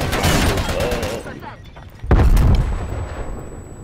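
Gunfire in the shooter game Call of Duty: Black Ops Cold War, a burst of rapid shots that fades, then a sharp loud blast followed by a decaying rumble.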